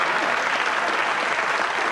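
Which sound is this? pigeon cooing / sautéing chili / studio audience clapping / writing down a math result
studio audience clapping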